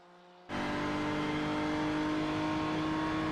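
Simulated GT3 race car engines at Mid-Ohio in iRacing, with an onboard BMW GT3, cut in abruptly after a brief quiet moment as a loud, close, sustained roar with steady tonal whine, no voices.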